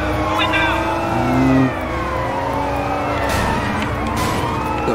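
Police car siren in the Sleeping Dogs video game wails loudly and continuously over a running car engine and traffic noise, with a voice talking over the game sound.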